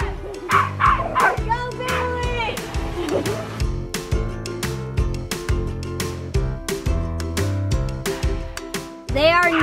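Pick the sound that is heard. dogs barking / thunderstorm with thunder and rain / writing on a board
dogs barking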